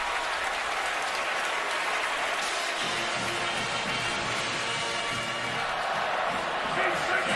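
A packed stadium crowd at a Florida State vs. Clemson college football game roars steadily after an incomplete third-down pass. The sustained roar of voices and clapping builds slightly partway through and continues without letup.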